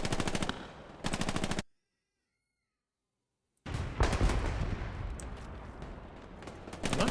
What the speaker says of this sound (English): Is he shooting at his friends?